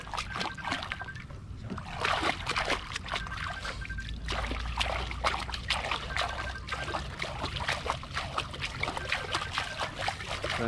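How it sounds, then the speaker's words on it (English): Water is pushed and splashed toward a caught fish held at the surface in Thailand, giving repeated close sloshing and trickling splashes in an irregular rhythm. "Just trying to push some oxygenated water towards the fish so it can recover more quickly."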